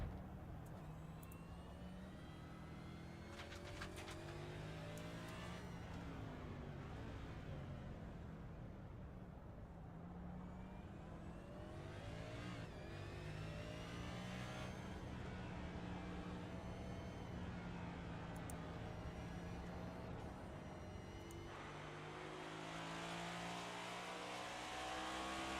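Onboard race car engine on a Texas track, throttle held and lifted in long sweeping pitch rises and falls as it shifts through gears, steady and loud throughout with no voices.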